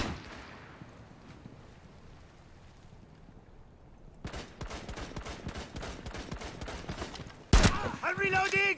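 Video game gunfire, heard as quiet ambience that gives way to a rapid, close stream of shots, followed by a loud burst and a voice shouting over it.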